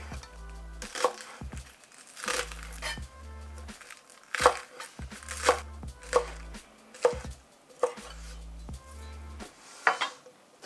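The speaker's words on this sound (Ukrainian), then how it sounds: "Нарізайте шматками довжиною сантиметрів 3-4." A knife chops onion into pieces on a cutting board, about a dozen firm, evenly spaced strokes with short pauses between them. The chopping is close and clear, with no talking.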